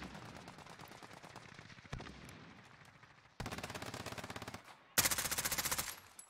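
Rapid automatic gunfire from a weapon in a video game, bursts of fast repeated shots that get louder and sharper toward the end, with brief gaps between bursts.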